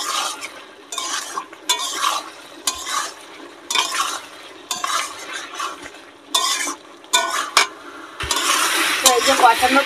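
Spice masala is sautéed with vegetables in a pan for a village-style rui fish and gathi kochu (taro) dish, with a spatula scraping and stirring in close, uneven strokes over a continuous frying sizzle that grows louder toward the end.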